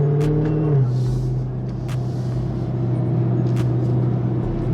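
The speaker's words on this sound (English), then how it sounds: "he must have heard the supercharger" A Dodge Charger Widebody Hellcat with its supercharger idles with a deep, steady rumble and a slight dip in pitch partway through, heard up close throughout with a few faint clicks on top.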